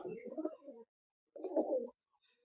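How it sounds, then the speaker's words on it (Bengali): A pure silver pigeon of Palla lineage gives two soft, throaty coos with a gap between them, quiet and close, without any talk. "এটা আমার মূল যে পাল্লা জেনারেশনের সিলভার কবুতর"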